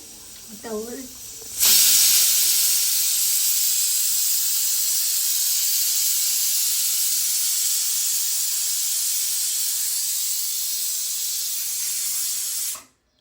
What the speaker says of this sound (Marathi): इथं आपलं मटण लावले कुकरला